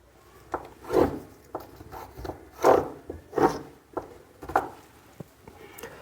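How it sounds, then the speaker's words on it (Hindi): Chalk or pencil drawn firmly along a ruler in a straight line across shirt fabric laid out for cutting a ladies' shirt, giving several short scratchy rubbing strokes of moderate loudness with brief pauses between them. "बिल्कुल सीधी लाइन ड्रॉ कर लो ऐसे।"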